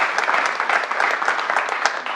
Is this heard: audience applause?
yes